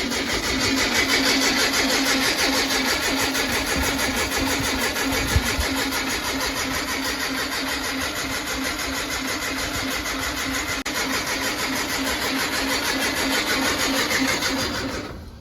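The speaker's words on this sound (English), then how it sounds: "let's crank this thing over, get the engine spinning, get the oil moving around" A Brubaker Box kit car's engine cranks over continuously on a first start attempt, with a fast, rhythmic chugging from the starter, loud and steady for about fifteen seconds without catching.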